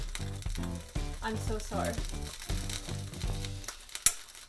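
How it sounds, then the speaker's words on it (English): Beyond Meat sizzles and crackles in a hot waffle iron, a steady frying hiss up close with a sharp pop near the end, heard under continuous talking and background music. "I can hear it sizzling."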